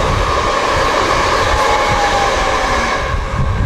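A passenger train rumbles along from inside the carriage, a loud steady roar of wheels and motion with no talking.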